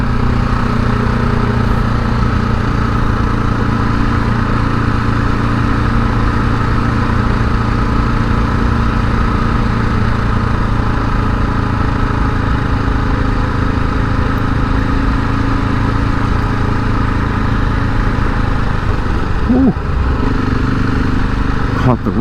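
KTM 690 Enduro single-cylinder motorcycle engine running steadily while riding off road on trails, a loud continuous close-up drone with slight shifts in pitch, and a voice talking over it.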